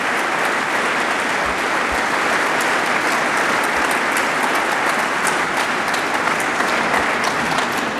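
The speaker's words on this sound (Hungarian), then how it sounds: "egy tapsot megérdemel" A large crowd at a school handover ceremony in Törökbálint, Hungary, applauds a parliamentary representative: loud, dense, even clapping fills the whole stretch without pause.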